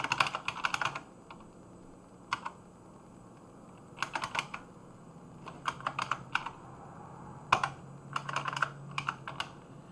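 Code typed on a computer keyboard, bursts of rapid key clicks separated by short pauses, close and fairly loud against a quiet room hum.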